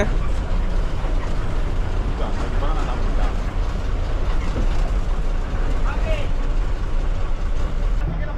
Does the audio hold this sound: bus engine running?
yes